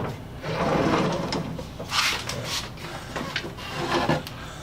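Metal hand planes set down into a wooden tool drawer in a workshop, a series of knocks, scrapes and rubbing sounds of iron on wood, close and fairly loud with no talking.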